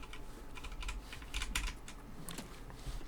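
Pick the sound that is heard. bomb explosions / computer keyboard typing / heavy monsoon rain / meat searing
computer keyboard typing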